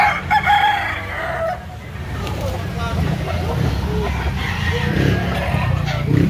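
Roosters crow and chickens cluck nearby in Cebu City, amid background chatter and a running engine.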